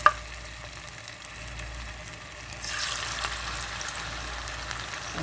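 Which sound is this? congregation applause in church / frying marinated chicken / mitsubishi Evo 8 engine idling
frying marinated chicken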